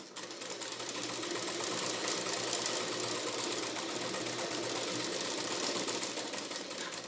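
A sewing machine hums steadily and faintly throughout, stitching a dart on a lined blouse in one unbroken run.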